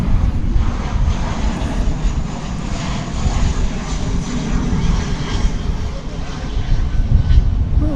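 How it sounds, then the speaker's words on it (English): American Airlines flight 2400 from Amarillo, Texas arriving at DFW Airport, its jet engines giving a steady broadband roar that holds loud and even for about eight seconds, with a slight swell near the end. "catch the arrival of a Flight 2400 American Airlines from Amarillo, Texas"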